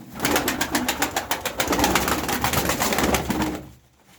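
Rapid wing claps and fluttering from pigeons take off nearby, a loud flurry that fades out at the end.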